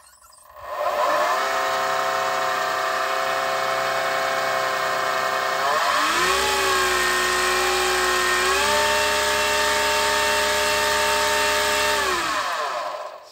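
An electric outboard motor spins at full throttle with no load, a loud, steady high-pitched whine with strong harmonic tone that holds level, drops briefly in pitch midway, then steadies again before winding down.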